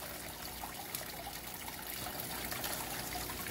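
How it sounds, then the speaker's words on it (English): Water spills vigorously from a newly replaced filter into a waterfall tank, a steady close trickling and gushing flow with no voices. "the water flow is much more vigorous now that I've replaced that filter"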